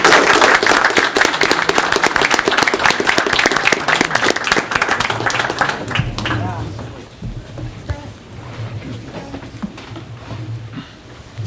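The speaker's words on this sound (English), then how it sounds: "Can we have a round of applause for them?" Loud, dense applause fills a town council meeting room for about six seconds, then thins to scattered clapping and room murmur.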